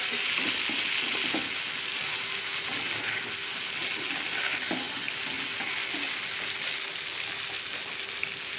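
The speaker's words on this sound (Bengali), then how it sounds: "তারপরে আবারও আলুর সঙ্গে আমি অ্যাড করে দিলাম দুটোকে মিলিয়ে আমি আবারও একটু ফ্রাই করে নিচ্ছি" Potatoes and vegetable stalks fry in a pan with a steady, dense sizzle that runs the whole time. A few faint clinks of stirring sound close by, and there is no talk.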